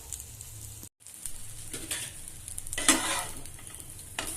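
Fish fries in ghee with masala in a pan, giving a close, steady sizzle. Stirring and scraping noises come and go, with a brief cut near the start and a sharp clatter just before the three-second mark. No one speaks.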